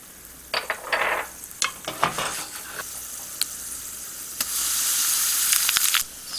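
Mustard and fenugreek seeds crackle and sizzle in two teaspoons of hot coconut oil as a tempering. A spoon stirs and taps against the pan, ending in a steady hiss, close and without talking.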